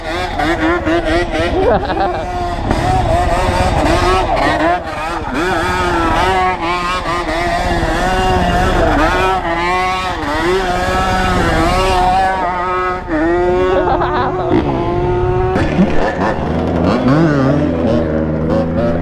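A 450 dirt bike engine revs loud and close while doing donuts, its pitch rising and falling in continuous sweeps for nearly twenty seconds, with a brief dip in the middle and a sharp shift near the end.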